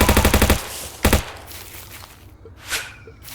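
Gunfire from the side-scrolling PC battle game Scrolling Battles Pro: a rapid burst of about seven loud machine-gun shots, a short second burst a moment later, then quieter game sounds.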